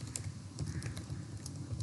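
Keys clatter on a computer keyboard as a web address is typed during a lesson, a quick irregular run of light clicks close by with no talk.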